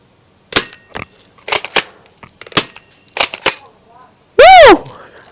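Airsoft guns firing in a one-on-one match, a string of sharp close pops in quick succession, followed by a loud whistle-like blast near the end.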